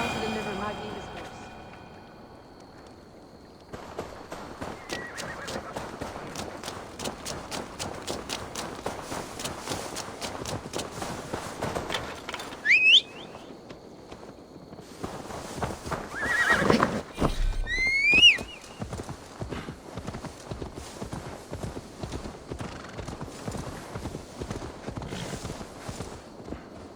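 A horse gallops with rapid hoofbeats in Assassin's Creed Valhalla, then neighs a couple of times, with game sounds and spoken dialogue around it.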